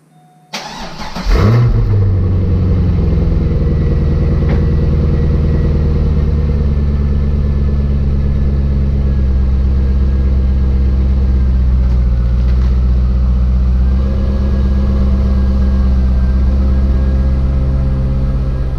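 A C5 Corvette cold-starts with a sharp crank and catch, then settles into a loud, steady, deep idle with a rumbling low burble that holds close and constant for the rest of the time, with no talking.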